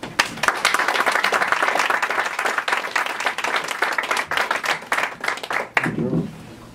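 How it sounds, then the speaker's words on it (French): Warm audience applause for a poet at a poetry evening's anniversary celebration, dense and close clapping that swells and then fades, with a voice coming in at the end. "on applaudit chaleureusement Olivier Marchand."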